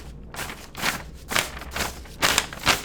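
Paper rustles and crinkles in rhythmic bursts, imitating the swish of nylon windbreaker pants with each walking step, close and fairly quiet with no speech.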